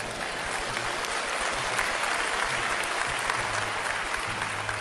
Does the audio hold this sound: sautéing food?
no